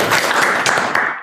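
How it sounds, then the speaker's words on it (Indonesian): An audience of alumni at a university association candidates' forum gives a short burst of dense clapping that fades out quickly. "Tepuk tangan."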